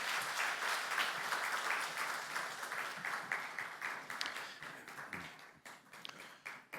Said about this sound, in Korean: 우리 사랑과 축복의 박수 부탁드리겠습니다.